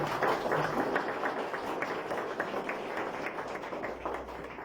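A church congregation applauds during a Sunday service, steady mid-loud clapping from many hands sustained for several seconds without talk.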